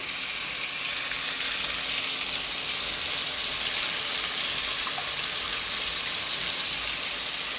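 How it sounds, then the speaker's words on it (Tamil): Gongura (sorrel) leaves cook in a hot pan with a steady, close, hissing sizzle that holds at an even level throughout, with no voices. "இப்போ பாருங்கள் கீரை வந்து வேக ஆரம்பிச்சிச்சு"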